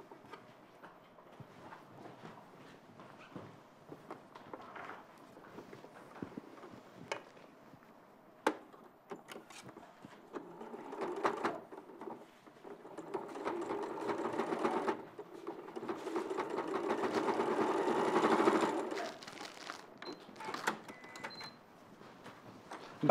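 A sewing machine stitches at a sewing studio, running in bursts that build to a longer, louder steady run near the end, with light handling noises between.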